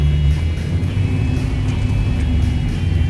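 A car fitted with new SRT headers and exhaust rumbles loudly during a 0-60 run, a deep steady engine drone close by with no talking.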